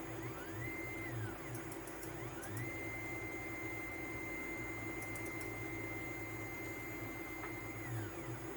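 A DIY CNC router moves its Z-axis, with stepper motors whining in rising and falling tones over a steady machine hum. A few faint ticks sound in the background.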